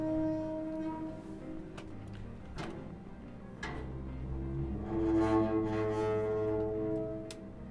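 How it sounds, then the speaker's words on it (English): A metal garbage can lid being handled, with several sharp clanks and scrapes that leave ringing metallic tones hanging between the hits. "a garbage can lid being manipulated"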